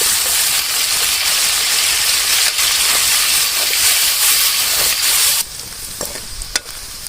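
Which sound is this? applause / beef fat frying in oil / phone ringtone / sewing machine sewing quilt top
beef fat frying in oil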